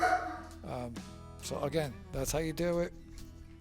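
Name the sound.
German Shepherd dog barking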